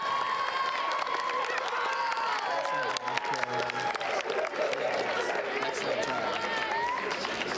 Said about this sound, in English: let's give a round of applause for Caroline Zender.